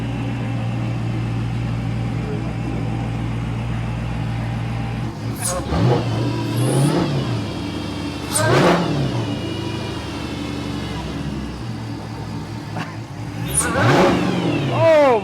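Supercharged Dodge Charger Pursuit engine idling with a steady low rumble, then three sharp revs swelling and falling back, loud and close.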